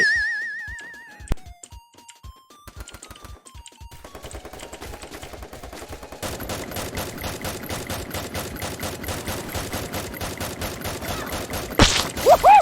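Rapid gunfire in the mobile shooting game Free Fire, starting with sparse single shots and game tones, then dense automatic bursts building to a loud, continuous rattle.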